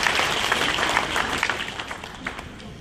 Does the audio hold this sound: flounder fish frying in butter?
no